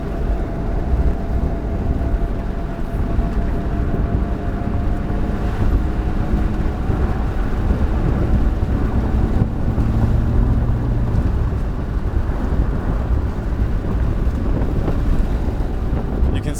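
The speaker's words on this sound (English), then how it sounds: "I was giving it gas and it was accelerating so quickly" A Honda Odyssey engine-swapped Mazda Miata accelerates hard on a country backroad, its engine droning loud and steady from inside the cabin under heavy wind roar, the pitch climbing through the gears.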